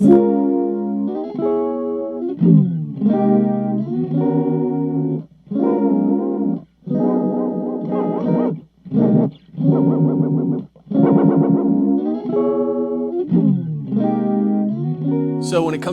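Electric guitar run through a chorus effect, compared between a TC Electronic Plethora and a Boss MS-3, playing loud shimmering chords and arpeggios in short phrases with brief gaps, a warm modulated tone alone without talk.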